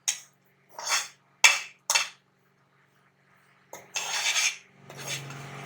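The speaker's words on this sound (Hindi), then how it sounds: "नारियल का बुरादा जो मैंने क्रश किया है, ये मैं फ्राई करूंगी।" Crushed coconut is fried in its own oil in a pan while a spoon stirs it. There are several short metallic scrapes and clinks, then longer scraping strokes, all close and fairly quiet with no speech.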